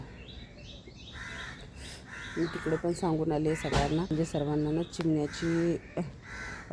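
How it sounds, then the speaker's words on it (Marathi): Several crows caw repeatedly near a house, their harsh calls coming in short rhythmic bursts at moderate distance, while someone talks over them. "इकडे ना कावळे पण खूप आहेत"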